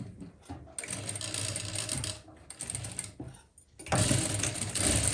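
A sewing machine stitches a suit sleeve in bursts of fast, steady running, with short pauses and a louder final run. No voices are heard.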